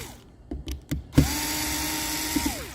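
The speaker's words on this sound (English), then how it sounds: "Grabbing your Phillips, you're going to back out these 4 screws." A Phillips driver backing out four screws on a POGO Pro soil probe, with a few light clicks and taps, then a sustained close whirring drone that rises and falls away.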